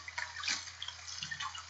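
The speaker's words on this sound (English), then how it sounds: "The raindrops cartwheeled through the air and into the water." Soft, scattered raindrops drip and splash into a puddle, quiet and close, with a faint steady hum underneath.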